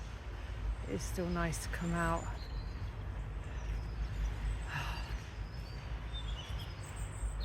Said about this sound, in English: Hear the birds, even with the background of all the industrial noises.